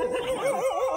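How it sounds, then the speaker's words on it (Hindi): A dog whimpers and yips in a high, wavering whine, close and continuous, by a flooded river with fast-flowing water. "एक साथ इतने सारे कुत्ते"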